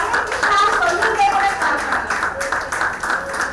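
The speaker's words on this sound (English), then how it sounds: "A big round of great applause" A crowd at a Bhagavad Gita recitation event claps steadily and continuously, a dense patter of many hands, with voices mixed in underneath.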